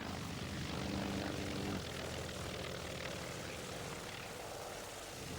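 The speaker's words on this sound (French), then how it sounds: "Voici donc au décollage le Wildcat" A Grumman Wildcat warbird propeller aircraft takes off at the 1999 Duxford airshow, its piston engine and airscrew droning loudly and steadily, with a slight fall in intensity partway through and no talk.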